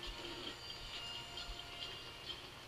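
Steady rumbling hiss of a train ride in Paper Mario: The Thousand-Year Door, with a low rolling drone and faint periodic clacks repeating evenly about every half second, continuous and fairly quiet with no talking.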